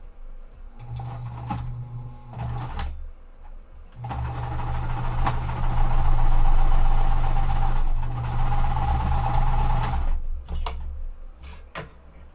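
Domestic sewing machine stitching cotton quilt squares right sides together, running in a short burst, pausing, then a long steady whirring run of about six seconds before stopping, with small clicks and handling noises around it.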